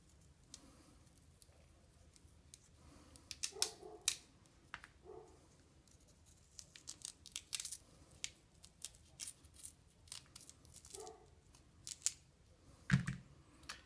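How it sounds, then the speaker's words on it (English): Scissors trimming a rooted plant stem cutting to fit a pot: faint, close snips and small crisp clicks scattered irregularly against quiet room tone, with no voices heard. "So I just trimmed to fit the pot."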